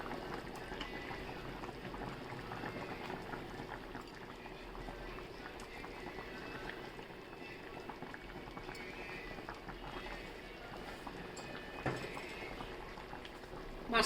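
A pot of cauliflower and tomato curry bubbles in a steady, continuous boil, the low simmering rumble and liquid burble holding evenly throughout with a brief louder bump near the end.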